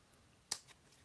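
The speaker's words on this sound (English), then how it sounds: "I just want to trim that's hanging over the edge there" A single crisp snip of scissors trimming overhanging tissue paper at the edge of a glued paper craft, faint and close in an otherwise quiet room.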